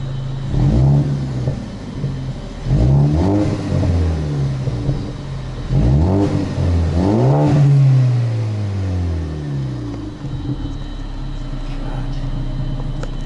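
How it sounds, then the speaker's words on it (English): A Ford Focus ST's exhaust blares through a series of close, loud revs, each rising and falling back to a low idle rumble, with about four distinct bursts spread across the stretch. "Let's take a little listen to the exhaust."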